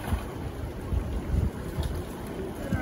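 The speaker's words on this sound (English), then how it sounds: "The breeze feels so good out here." Outdoor breeze at the Blue Lagoon buffeting the microphone in low rumbling gusts, with faint water movement in the background and no clear voices.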